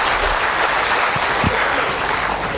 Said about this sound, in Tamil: மீண்டும் ஒரு கைத்தட்டி இருக்கு உண்மையிலே